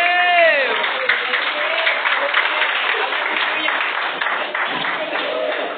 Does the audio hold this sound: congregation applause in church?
yes